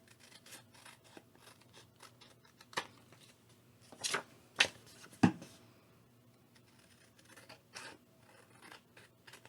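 Scissors trim paper for a cute corner hugger craft, giving a few sharp snips and rustling cuts in a quiet room, spread across the clip with small scraping handling noises between them.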